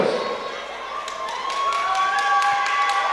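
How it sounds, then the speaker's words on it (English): Crowd cheering and applauding for two boxers after a full three-round boxing bout at a fight night, a steady, dense wash of claps and shouts that swells slightly toward the end, with a few whistles standing out. "A massive round of applause."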